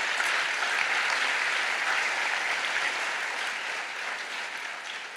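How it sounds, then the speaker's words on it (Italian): Sustained audience applause at a talk featuring a pianist and a writer, a dense, steady wash of many hands clapping at once that fades slightly toward the end, with no voices over it. "Applausi."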